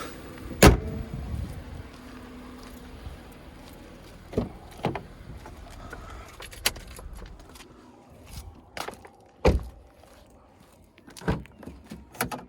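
The bonnet of a 2004 Honda Accord VII 2.0 with a manual gearbox and an LPG installation is closed with one sharp, loud thud near the start. Scattered knocks, clicks and handling noises follow in a quiet garage-like setting.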